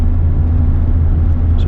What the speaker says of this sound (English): I did just give it some throttle.